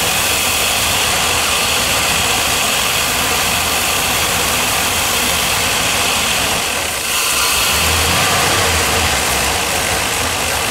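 A junkyard V8 engine fitted with a Holley Terminator X fuel injection system runs lean, a loud, rough steady drone close by that holds continuously with a brief dip partway through.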